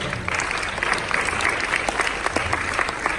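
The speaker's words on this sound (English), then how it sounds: "big round of applause" An audience at a training seminar claps in steady, dense applause, fairly close, with no talking over it.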